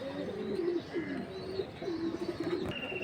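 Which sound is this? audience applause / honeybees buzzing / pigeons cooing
pigeons cooing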